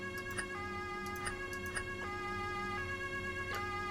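A police car siren in the OMSI 2 bus simulator game, set in HafenCity, Hamburg beside a Volvo 7900 AH bus, holds a steady electronic tone with short high chirps recurring every half second or so, over a low continuous bus engine hum.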